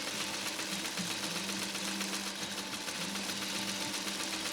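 A 1953 Singer 301A sewing machine stitches over slippery fabric in a steady, continuous mechanical hum, close and moderately loud with no pauses.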